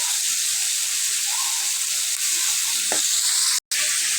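Fish frying in a pan for a home-cooked curry with potato and spiny gourd, giving a steady close hiss and crackle of hot oil throughout, with one very brief dropout near the end.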